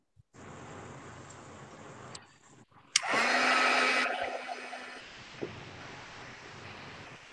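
A hair dryer heat-sets paint on holiday decorations, a steady close whooshing blow with a faint high whine that surges louder for about a second midway, with no talking.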